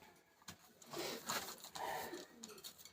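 Teddy pigeons imported from Pakistan cooing nearby in a loft, soft rolling murmurs that swell and fade, with a few faint rustles between the calls.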